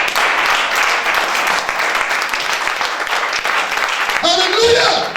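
A church congregation at a Sunday service applauds loudly and steadily throughout, a dense wash of clapping with cheering voices rising over it near the end.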